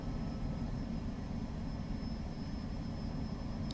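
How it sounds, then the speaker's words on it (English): An EasyJet airliner takes off in the flight simulator X-Plane 12, a steady, broad jet-engine roar with a faint high whine, holding an even loudness throughout. "we'll park it up here as that EasyJet takes off"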